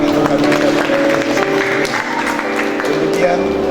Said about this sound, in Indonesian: Yang setuju berikan tepuk tangan bagi Tuhan.